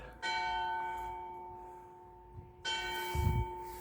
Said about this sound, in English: So that's a clock bell.